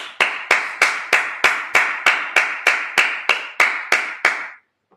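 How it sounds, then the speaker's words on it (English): At a Sabbath service, a run of about fifteen evenly spaced, crisp claps forms a steady rhythmic beat, close and clear, then stops abruptly. "Let's clap it up."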